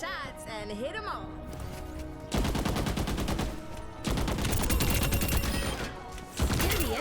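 Sierra's powerful gun firing in Overwatch, a dense run of rapid shots in long sustained bursts with short breaks between them, loud and close over the game's background sounds.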